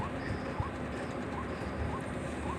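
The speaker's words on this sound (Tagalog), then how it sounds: "Panhuni-huni lagi sila." Soft, repeated bird cooing sounds at a steady rhythm over a constant outdoor background hum, in a rural area beside a cassava and corn field.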